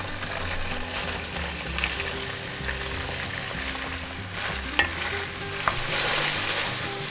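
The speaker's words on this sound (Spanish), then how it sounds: "añadimos las papas y las freímos con la carne" Potatoes fry together with cooked meat in a pan over medium heat, giving a steady, close sizzle with a couple of brief clinks from stirring.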